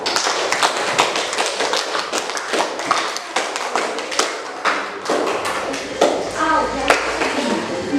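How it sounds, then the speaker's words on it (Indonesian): A classroom group claps together, a dense, lively patter of many hands close by lasting several seconds, with scattered taps and a few children's voices mixed in. "Aplaus untuk semua."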